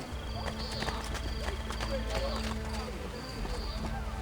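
Horse hooves in Assassin's Creed Brotherhood, a steady clip-clop of a running horse close by, with someone talking over it.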